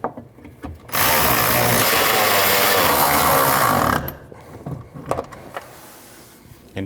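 A power tool runs loud and steady for about three seconds, tightening three 10mm nuts on the fuel pump module of a 2012-2021 Nissan NV2500 5.6L V8, then stops; clanks of handling follow.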